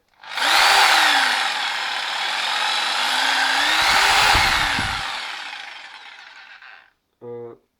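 A Bosch Easy PST 700 E jigsaw runs loud and close for several seconds, its motor pitch rising and falling as the trigger varies, then spins down, followed by a brief voice.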